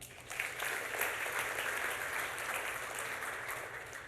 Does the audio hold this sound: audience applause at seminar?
yes